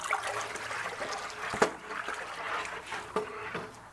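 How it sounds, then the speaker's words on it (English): A pot of crawfish boil water being stirred outdoors, with faint sloshing and swirling liquid plus a few sharp knocks of the paddle against the pot, quiet and close. "Gonna give this a good stir."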